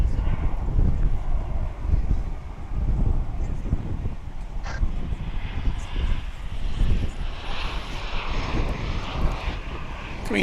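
An American Airlines Boeing 737-800 arrives at Dallas Fort Worth airport, its engine roar swelling and rumbling steadily over about ten seconds, close and fairly loud, with a faint bird call in the background.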